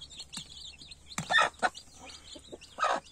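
Indian turkey chicks peep in short, high, scattered chirps, fairly close and soft against a quiet background, with a few louder bursts.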